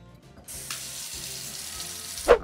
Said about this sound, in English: now we're gonna add some water here.